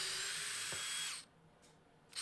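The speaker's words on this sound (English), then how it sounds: "I try to measure and drill the holes so as not to split the piece of wood" Power drill boring holes into a piece of wood in a chilly home workshop, a steady high whine for about a second that cuts off, leaving near quiet before another brief burst starts.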